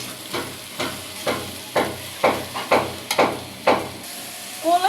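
Kalai greens stir-fried in a pan with salt, a hissing sizzle punctuated by about ten rhythmic stirring scrapes at roughly half-second intervals, close by, with no speech.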